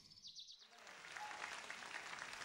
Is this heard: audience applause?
yes